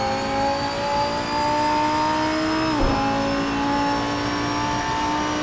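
A race car engine in a racing video game screams under hard acceleration through Eau Rouge, a steady high-revving drone with a brief dip from a quick gear change midway, loud and close with no talking.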